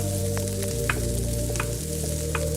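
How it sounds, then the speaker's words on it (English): Peppers being stirred and fried in a pan alongside a steady low hum, with a constant close sizzle and a few brief scrapes of stirring; no voices. "We're gonna give this a stir and flame brulee the other side as well"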